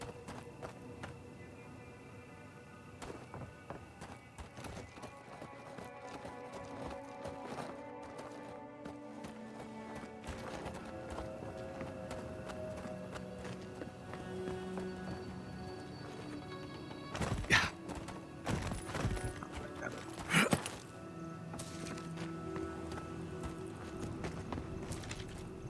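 Hooves clip-clop in a fast, steady rhythm as a horse gallops in the video game Avowed, with game music tones underneath and a couple of louder thuds.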